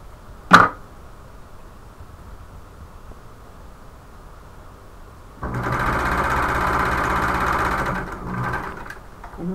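A sewing machine stitches the lining seams of a shoulder bag in one close, steady whirring run of about three seconds, after a single sharp click and a quiet pause.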